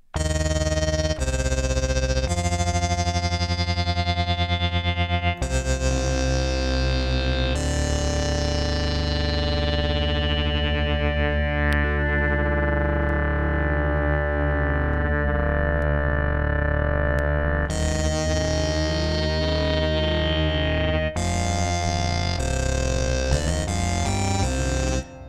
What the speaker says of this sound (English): Bring the reverb back in.